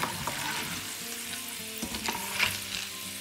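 Chickpeas fry in hot oil in a pan with a steady, close crackling sizzle, broken by a few louder pops and stirring scrapes, with no voices.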